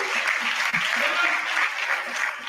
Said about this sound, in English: I want you guys to give them a big round of applause